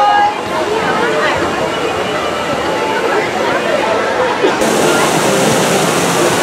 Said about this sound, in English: Now near Grizzly Creek Lodge, they have this waterfall.